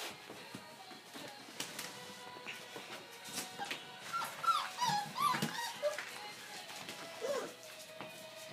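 Several puppies whimper and yip in a snowy outdoor setting, with high thin whines and squeaks coming in irregular bursts at moderate loudness, and scattered rustling and clatter underneath.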